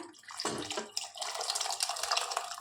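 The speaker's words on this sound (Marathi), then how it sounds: "पाणी सकट वतले बघा मी सगळंच" Soaked chickpeas poured along with water into a hot pan of fried masala, a short splashing gush and trickle, close and fairly loud, with no talking.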